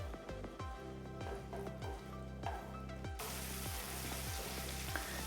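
Unsweetened khoya fries in a pan over a raised flame for chicken hari mirch, giving a steady close sizzle broken by regular scraping stirs that turns into a dense, even hiss.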